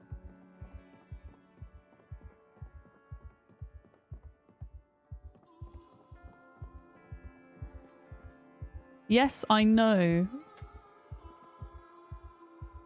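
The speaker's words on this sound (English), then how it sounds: "that there's a heartbeat sound" Steady heartbeat effect from the zombie survival game Project Zomboid, low rhythmic double thumps repeating throughout, continuing beneath a brief burst of speech near the end.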